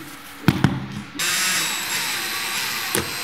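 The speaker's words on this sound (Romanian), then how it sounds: "efectuați găuri potrivite cu mașina de găurit cu percuție" A hammer drill bores holes for skirting board clips during laminate flooring installation: two quick knocks, then a steady high whirring drill run for about two seconds, close and loud.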